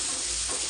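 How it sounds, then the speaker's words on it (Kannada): Sliced onions frying in oil for a chickpea gravy make a brief, steady, loud sizzling hiss with no break. "ಈರುಳ್ಳಿ, ಅದನ್ನು ಬಿಟ್ಟು ಸೇರಿಸಿ ಚೆನ್ನಾಗಿ ಫ್ರೈ ಮಾಡ್ಕೊಳ್ಳಿ"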